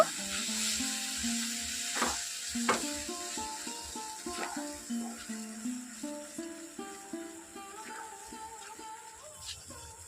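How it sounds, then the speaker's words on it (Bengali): A grape and semolina mixture is stirred continuously in a pan, with faint, regular scraping and tapping strokes repeating steadily, some soft tonal sound underneath. "এখন খুব ভালো করে নাড়াচাড়া করে দেব"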